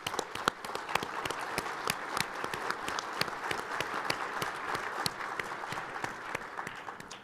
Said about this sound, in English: So can we show some appreciation with a round of applause?